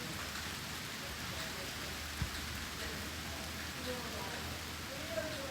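Steady hiss of rain falling, a dense even wash with a couple of faint drips or taps standing out.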